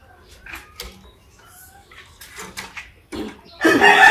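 Desi and Fayoumi hens on a small poultry farm give a few scattered, fairly close clucks, with rustling and a louder burst of noise near the end.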